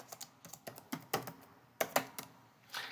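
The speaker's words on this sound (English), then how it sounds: "we'll type in a new survey style" Keys tapped on a Trimble TSC3 survey controller keyboard, a quick irregular run of soft plastic clicks close up in a quiet room.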